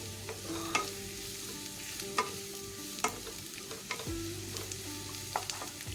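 Onions with green chili and curry leaves are stirred in a pan for a Kerala fishing-boat fish curry. A soft, steady sizzle sits underneath, broken by occasional sharp taps of the spoon against the pan. No one speaks.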